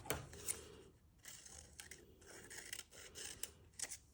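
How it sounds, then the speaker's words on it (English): Scissors cutting wavy wiggles out of paper, a soft, continuous close run of snipping and paper rustle with small clicks, fairly faint throughout. "cut some more wiggles from that"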